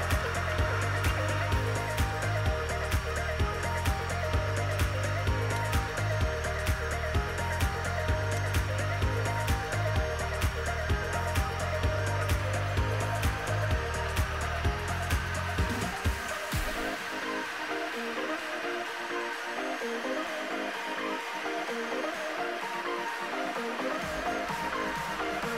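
A 3D printer fitted with a brush pen runs through a calligraphy job, its stepper motors buzzing in a steady, repetitive motor pattern that stays loud and close, then shifts to a thinner, quieter whir partway through.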